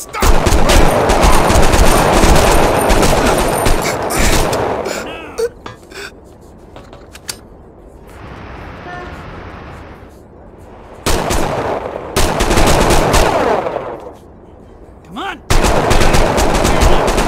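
Bursts of gunfire from the video game 25 to Life, loud rapid volleys at the start and again near the end, with a quieter lull in between.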